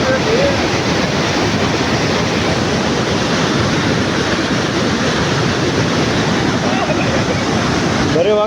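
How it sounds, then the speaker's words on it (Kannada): Water rushing down a waterfall makes a loud, steady, close roar of broadband spray that never lets up, with a voice or two faintly breaking through now and then. "ಆ ನೀರು ಹೆಂಗೆ ಬರ್ತೈತೆ ನೋಡ್ರಿ"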